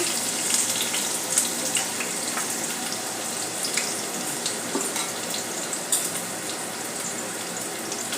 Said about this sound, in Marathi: त्यामध्ये एक मोठा चमचा तेल घालून घेऊया आले लसूण बारीक किसून घेतलेला आहे तो घालून घेऊया